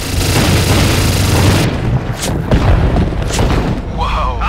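Heavy explosions from called-in fire support in Call of Duty: Modern Warfare 3: loud booming detonations fill the first half, then scattered blasts and rumbles continue under soldiers' shouted voices.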